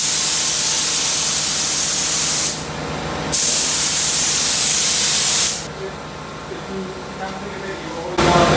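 A spray gun applying primer to a Honda Civic EK, loud steady hissing bursts of spray that start and stop, with a quieter stretch between and talk heard faintly during the pauses.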